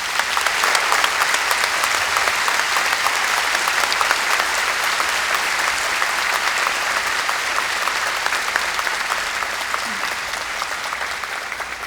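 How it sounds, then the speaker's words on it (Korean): A large crowd applauds loudly and steadily for about twelve seconds, a dense wash of clapping that fades slightly at the end. "큰 박수 부탁드리겠습니다"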